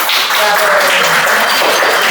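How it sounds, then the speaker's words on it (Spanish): Audience at a biotechnology and sustainability class applauding a group of presenters, sustained clapping from several people, fairly close, with a voice speaking over it. "Así que un aplauso para las compañeras."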